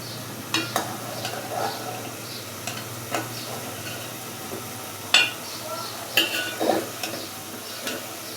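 Pangas fish frying in a pan during home village-style cooking, with scattered stirring scrapes and ticks over a steady low sizzle, close by.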